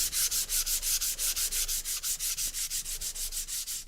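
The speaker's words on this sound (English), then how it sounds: "I'm sanding rather aggressively" Rapid, steady back-and-forth strokes of a sanding sponge, sanding aggressively, a rough scratchy hiss repeating about five times a second, close and loud with no talking.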